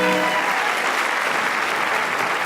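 Theatre audience applauding steadily and loudly for the performers at a staging of Edwin Drood, a dense, continuous wash of clapping throughout.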